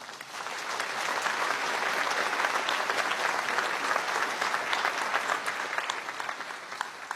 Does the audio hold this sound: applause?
yes